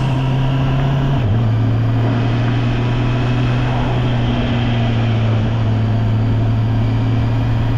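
A Honda E-Clutch motorcycle idles steadily with a constant low engine hum, with a small dip in pitch as it shifts gear without the clutch at a stop, close up throughout.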